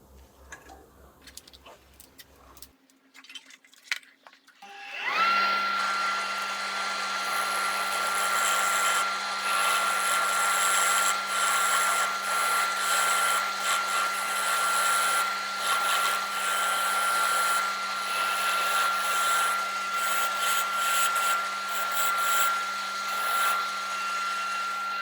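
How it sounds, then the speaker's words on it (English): A dust collector at a wood lathe, used while turning a natural-edge elm bowl, starts up after a few quiet seconds and then runs as a steady, loud, close whine and roar that holds for the rest of the clip. "so I'll have the dust collector on"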